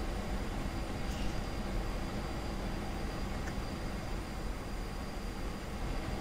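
Steady rumbling roar of a train in the Korean War flight game MVP Korea 1952, a constant low broadband drone at moderate level with no distinct pulses, heard alone.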